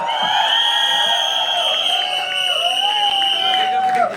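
A crowd cheers and whoops loudly and steadily for actor Paresh Rawal at the Mumbai trailer launch of Bhooth Bangla, with sustained tonal cries riding over the noise of the audience.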